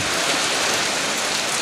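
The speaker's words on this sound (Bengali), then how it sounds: "আজকে কয়েকদিন ধরে বৃষ্টি, টানা বৃষ্টি, চারদিকে বৃষ্টি আর বৃষ্টি" Heavy, continuous rain pours down over a flooded village in Pirojpur, Bangladesh, a dense, loud, unbroken hiss of drops with no voices.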